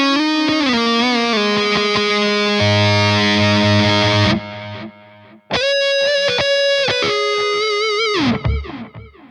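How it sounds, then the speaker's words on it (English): Electric guitar lead through a Quad Cortex on the neck pickup with delay and reverb, warm and thick with distortion, sustained notes and bends, echoing tails audible between phrases, loud and alone. "that's a really nice and warm and thick lead tone"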